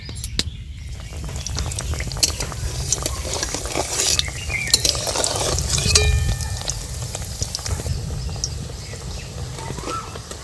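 Biscuit dough fries in moderately hot oil in a wok, making a steady, close bubbling sizzle with a scattered crackle and occasional stirring scrapes, heard alone.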